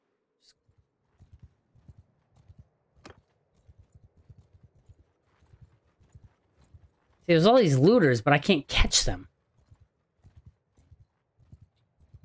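Horse hooves patter in a quick, light gallop while riding in Mount & Blade 2: Bannerlord, faint and steady throughout, with someone speaking loudly over them for a couple of seconds midway.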